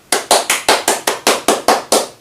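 Nine separate sharp claps from a single pair of hands at a company gathering, struck in a steady rhythm about every quarter second, close and fairly loud with no talk over them.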